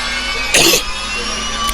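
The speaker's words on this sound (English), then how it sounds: "Sorry for the cough there." A single short, harsh cough cuts through a steady mechanical hum, close and loud, lasting about a quarter second.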